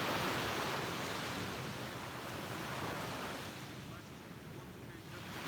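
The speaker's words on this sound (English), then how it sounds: "This is Vanderbilt Beach in North Naples, Florida." Ocean surf at Vanderbilt Beach in North Naples, Florida, a steady broadband wash of waves with some wind, continuous and fairly loud throughout.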